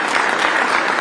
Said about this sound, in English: They're clapping, though.